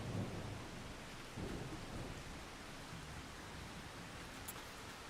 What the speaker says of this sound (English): Ah, here comes the rain.